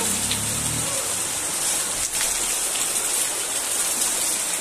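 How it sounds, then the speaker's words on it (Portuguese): Heavy rain pours steadily in the Brazilian sertão backcountry of the Northeast, a dense, unbroken hiss that holds at an even level throughout with no voices over it. "olha o tamanho dessa chuva!"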